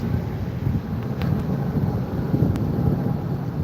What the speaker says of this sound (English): Sounds like a big plane to me, bigger than 320.